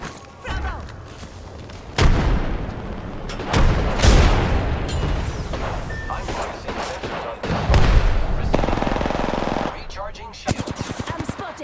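Rapid automatic weapon fire and heavy bursts ring out in the Apex Legends battle, with loud volleys, booms and scattered shots. Brief in-game voice callouts sit among the shots.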